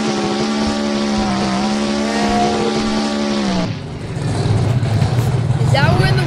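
Bigfoot monster truck engine at a monster truck show, revving in a loud sustained howl as it spins a donut, then dropping into a rough, rumbling growl, with no talking over it.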